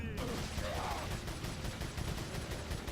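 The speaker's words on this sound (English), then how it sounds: "what's random explosion in the background?" A loud explosion in the video game Resident Evil 4 erupts suddenly and rolls on as a dense, rumbling roar with crackling bursts, filling the whole stretch.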